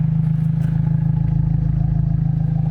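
Abarth 124 Spider idling through its quad exhaust pipes, a steady, close low engine burble with a faint rhythmic pulse and no talk over it.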